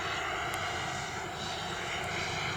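Flyfly Hobbies Viper 2.2 RC turbine jet cruising at half throttle: a steady, moderately distant whining turbine hiss with a constant level and no break, heard outdoors in the open.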